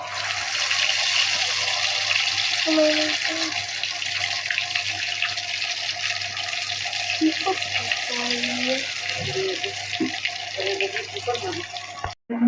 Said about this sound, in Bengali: এবার আমি ডিম আর আলুটা দিয়ে দিই